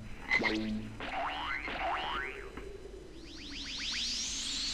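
Cartoonish frog croaks and warbling calls from the video game Dragon Ball X2 ring out, followed by a rapid run of rising chirpy sweeps, bright and close with no talking.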